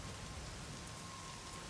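Steady rain falls on a rooftop in the video game Days Gone, a continuous soft hiss of drops with no pauses and no talking.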